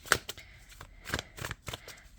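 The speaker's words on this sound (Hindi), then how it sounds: "मैं इसको पहले से ही शफल कर लेती हूँ ताकि मैं एक एक कार्ड" Tarot cards being shuffled by hand in a few quick, crisp riffling bursts, close and moderately quiet, with no voices.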